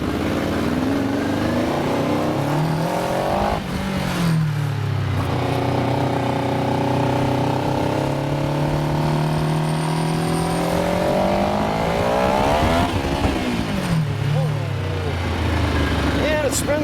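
A motorcycle fitted with an upgraded four-muffler exhaust runs loud and close, its engine pitch climbing and falling through several rev swells, with wind rush throughout.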